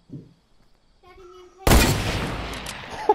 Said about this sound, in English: Boom! What a shot!